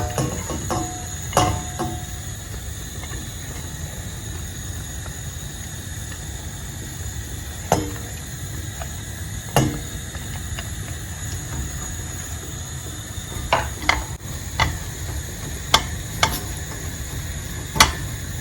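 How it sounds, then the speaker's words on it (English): Onions and garlic sauté in olive oil in a pan with a low, steady sizzle throughout, punctuated by scattered clicks and taps of a utensil against the pan, with no speech. "And I'll add my onions and garlic to the pan."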